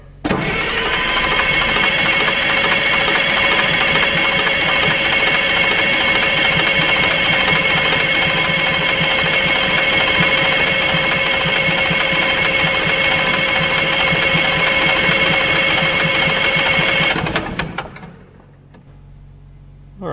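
The starter cranks an old Allis-Chalmers diesel military generator engine that had sat unused for years, giving a loud, steady mechanical churn for about seventeen seconds before it cuts off and trails into quiet. There is no talking.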